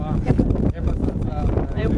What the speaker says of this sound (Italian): sì, c'è quasi vento costante